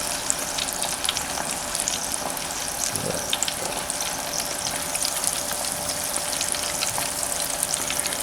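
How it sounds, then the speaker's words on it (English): Meatballs fry steadily in hot oil, a dense, even crackle and hiss holding at one level throughout, close by and with no voices over it. "And we're just going to let them fry."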